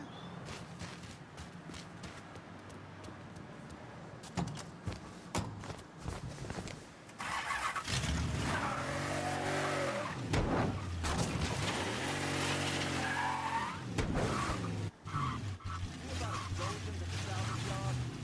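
Car engine in the video game Mafia III starting and then revving hard, quiet mechanical clicks at first, then a loud sustained engine roar with rising and falling surges, someone talking over it at times.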